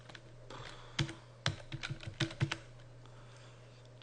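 Someone types a host name on a computer keyboard: a quick cluster of about ten soft keystroke clicks in the middle, over a faint steady hum, with quiet stretches before and after.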